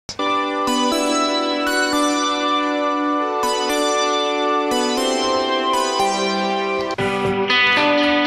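Stereo keyboards tracked live in one room with a rock band, sounding as a solo part of bright, sustained chords struck at intervals, each ringing out before the next, loud and clear with no voices.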